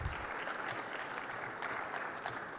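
Audience applause at the JNUC conference welcoming two presenters from Rocketman to the stage, a steady, moderately quiet wash of many hands clapping for a couple of seconds.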